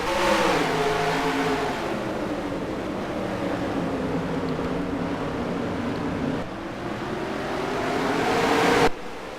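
Several race cars roar off the start at Martinsville Speedway in a racing video game, a loud, dense engine drone with rising revs that fills the whole stretch before cutting off abruptly near the end.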